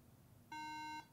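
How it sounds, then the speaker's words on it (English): A single steady electronic beep, about half a second long, from a MacBook Pro with a RAM fault at startup, sounding clearly over a quiet background hum. "3 beeps typically means there's a RAM issue"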